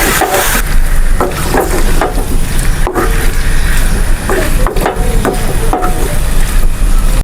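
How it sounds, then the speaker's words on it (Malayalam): Chicken pieces being stirred into a pan of curry masala, with a steady sizzle and repeated scraping knocks of a spoon against the pan throughout, loud and close, no talk. "ഇനി ഇത് നല്ലതുപോലെ യോജിപ്പിച്ചെടുക്കാം"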